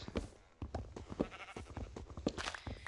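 Sheep bleating in a Minecraft-style video game: a quick run of short, repeated bleats from several animals, close and fairly quiet, with no talk.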